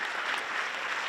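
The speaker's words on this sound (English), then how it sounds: "So big round of applause to everyone." Brief burst of dense audience clapping thanking volunteers at a literary Q&A event, a continuous wash of hands for about a second.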